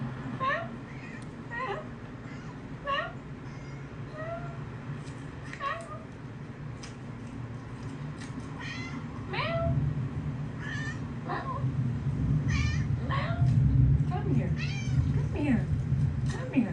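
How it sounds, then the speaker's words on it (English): A cat meows repeatedly in short, distinct calls spread throughout, fairly close, over a low background hum with some quiet talk underneath. "she just follows me around meowing"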